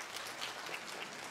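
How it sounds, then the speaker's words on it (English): An audience claps during a physics demonstration show, a short, continuous patter of many hands with a few brighter claps standing out, steady and moderately loud. "If you think the lower string breaks first,"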